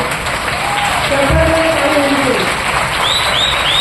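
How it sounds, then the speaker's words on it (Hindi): An audience at a leadership seminar event in Vizag applauds in a dense, steady wash of clapping, with a few brief whistle-like tones near the end. "ताली करना चाहिए"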